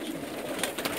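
Pigeons from a large flock kept by a breeder murmur and coo softly at night, a low, faint, continuous burble with a few flutters and no voices.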